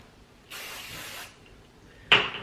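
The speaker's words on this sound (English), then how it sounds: "I'm just going to spray it all over," Hair product is sprayed from a spray bottle onto dry hair in a sustained hiss of under a second, followed after a pause by a louder, sharper burst close to the microphone.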